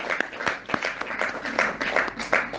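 A congregation applauding at a night prayer service, a dense, steady wash of many hands clapping, fairly close and sustained without pause.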